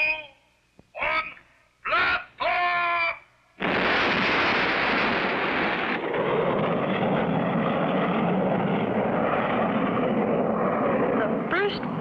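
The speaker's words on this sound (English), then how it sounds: "You have 30 seconds before blasting off." A cartoon rocket blasts off for the moon with a loud sudden roar that holds steady for several seconds, preceded by a few short voice bursts.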